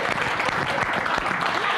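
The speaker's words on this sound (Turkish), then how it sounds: "Evet, doğru deyince alkışlıyorsunuz tabii." Studio audience on a Turkish television program applauding, a dense steady clapping that fills the moment with a voice faintly under it.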